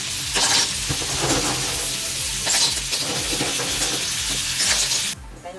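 Shells go into a pot for ginataang kinasun, Filipino shellfish cooked in coconut milk. They make a loud, continuous sizzle and clatter as they are stirred, with several louder scraping surges, and everything stops abruptly near the end.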